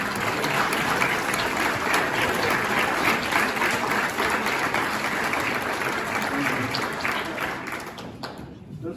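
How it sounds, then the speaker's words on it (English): Crowd at a Cameron Area Chamber of Commerce gathering applauding the Chamber board members, a steady wash of clapping lasting several seconds before fading out at the end. "I want to give a round of applause for you."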